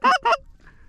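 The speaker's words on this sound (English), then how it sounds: "Ducks." Ducks call over a corn field during a bird shoot: two short, loud, nasal honks close together, then a faint distant call.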